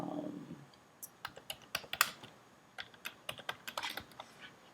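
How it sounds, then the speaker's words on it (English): Quick bursts of clicking keystrokes on a computer keyboard, close and fairly quiet, come in short irregular runs after a brief soft start, with no talking. "You couldn't see what I was typing."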